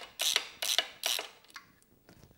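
A 12 mm socket wrench ratchets on the mid bolt of a Tyga high-mount exhaust on a 2022+ Honda Grom: three close, crisp bursts of ratcheting clicks, then a few fainter ticks.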